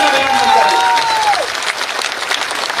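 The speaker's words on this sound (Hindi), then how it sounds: "सिमरिया वाली ताली बजाकर इनका जोरदार स्वागत करें" Loud, dense clapping from a crowd at a BJP political rally in Semariya, Rewa, welcoming a chief guest, steady and close for a few seconds with a voice briefly audible at the start.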